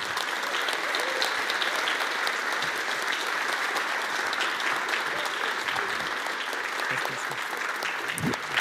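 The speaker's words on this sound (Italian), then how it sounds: "So please give an enormous applause to Il Grande Maestro Marco Bellocchio." A festival audience at a film talk applauds, a dense, sustained wash of many hands clapping continuously throughout, fairly loud and without a break.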